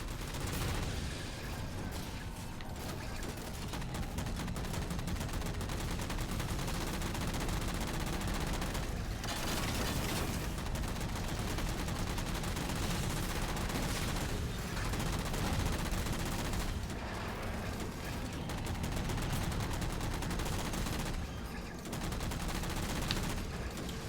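Enemy gunfire in the Halo 4 video game, dense rattling bursts of automatic fire with booming shots, sustained and loud throughout with brief lulls.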